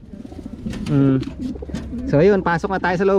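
Racing pigeons in a loft cooing near the microphone while someone speaks Filipino over and between the soft repeated coos.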